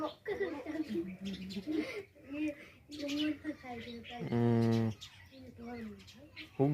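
Pigeons coo and small birds chirp around a feeding spot where grain is scattered, the calls mixed and frequent beneath people talking nearby, with one sustained buzzy tone partway through.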